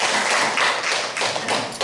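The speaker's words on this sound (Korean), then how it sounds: "큰 박수로 맞아주시기 바랍니다." Loud audience applause welcoming two lecturers to the stage at an ecological spirituality talk, a dense continuous patter of many hands close by, swelling slightly and holding steady throughout.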